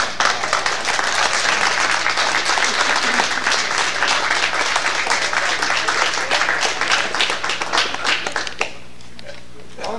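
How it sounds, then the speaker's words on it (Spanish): Sustained group applause fills a room at an athletic club assembly, dense overlapping claps steady and loud for several seconds, then tapering off as a few voices murmur at the end. "yo creo que se merece un aplauso a la nueva."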